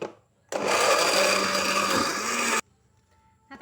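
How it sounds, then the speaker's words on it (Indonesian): A kitchen blender whirs loudly for about two seconds, blending boiled meat with water and curry ingredients, starting and stopping abruptly with quiet before and after. "Oke, kita blender."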